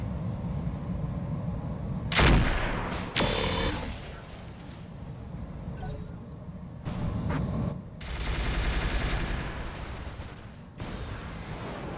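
Mech weapons in Roguetech fire in heavy bursts: a loud blast near two seconds, then repeated volleys of cannon and autocannon fire with rumbling explosions, no talk.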